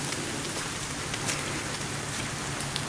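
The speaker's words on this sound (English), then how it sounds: "Right now with the rain" Steady rain patters on leaves in a thickly vegetated forest beside a creek, a dense, even hiss of drops holding level throughout with no voices.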